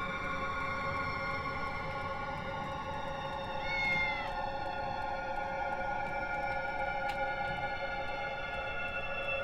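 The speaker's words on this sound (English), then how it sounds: "heard the cat meow again" A cat meows once inside a foggy-town horror video game, a short rising cry rising briefly above a steady droning ambient bed of hums and tones that runs throughout.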